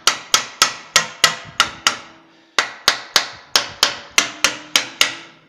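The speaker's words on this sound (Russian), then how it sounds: "по винту регулировочному и по самому коромыслу легкими ударами" A small hammer strikes a valve adjusting screw and rocker arm again and again, quick bright taps in two runs with a short pause between, close and clear.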